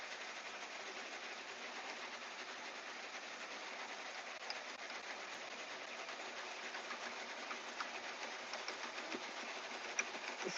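A sewing machine stitches embroidery with a steady, fast mechanical whir and rattle that runs without a break, close by and fairly loud.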